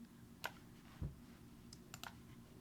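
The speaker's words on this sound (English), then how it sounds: "I'll just press the T on the keyboard" A computer keyboard is used to press the T key, producing a few soft, separate clicks and taps spread over a couple of seconds, heard faint and close in a quiet room.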